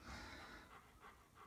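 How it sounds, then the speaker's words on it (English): A dog pants softly in quick rhythmic bursts somewhere nearby but faint, with no talking over it. "if you hear panting in the background"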